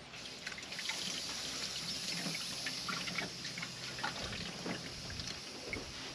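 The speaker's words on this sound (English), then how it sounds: "And I rinse the tablespoon into the sprayer tank." Water trickling and splashing as a tablespoon is rinsed into a vineyard sprayer tank, a soft, close, continuous pouring sound with small irregular drips and sloshes, fairly quiet.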